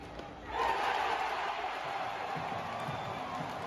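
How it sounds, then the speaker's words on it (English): Phillies fans in a stadium crowd chanting and roaring after the final out of an extra-innings win over the Orioles, a sustained wash of massed voices that swells early and holds steady, heard from a distance. "Here's the crowd reaction to the final out here."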